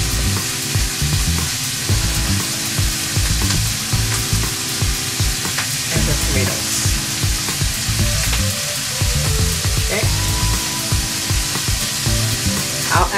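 Peppers, jalapenos and beans sizzle loudly in a pot for pork stew, a continuous dense frying hiss broken by stirring scrapes and clatter, close and without talk.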